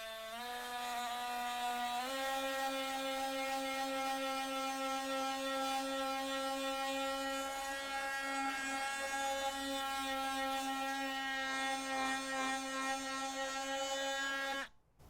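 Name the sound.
Dewalt power sander sanding stained cedar wood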